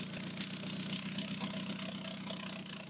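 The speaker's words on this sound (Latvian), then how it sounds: "Motors vajag pasildīt viņu gāzēt." A 1.9 TDI diesel engine idling while warming up, a steady low rumbling drone with a faint rhythmic knock throughout, no talk.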